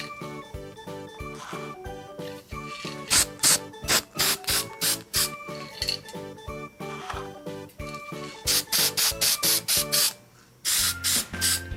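Spray primer can sprayed onto a toy Chick Hicks car from Cars, in repeated short bursts separated by brief pauses, loud and close against a steady music bed.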